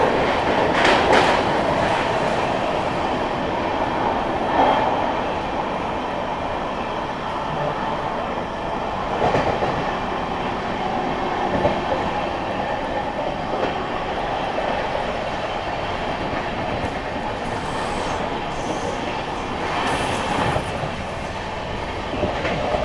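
The Patna Express rolls along the rails in a continuous loud rumble, heard from inside a first-class coach, with rhythmic clickety-clack of wheels over joints and occasional metallic knocks throughout.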